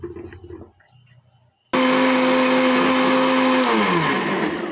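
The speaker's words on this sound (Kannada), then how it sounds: "ಸ್ವಲ್ಪ ನೀರು ಹಾಕ್ಕೊಂಡು ರುಬ್ಕೊಳ್ಳೋಣ" A mixer grinder grinding cashew paste with water starts abruptly after some quiet kitchen clatter, then roars loudly and steadily with a high motor whine that slightly drops in pitch toward the end.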